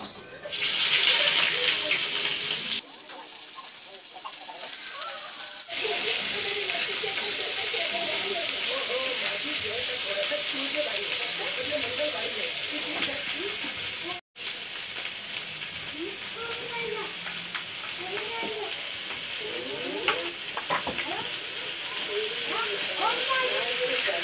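Onion fries in hot oil with a continuous loud hiss and sizzle that runs almost unbroken, while a person talks over it for much of the time.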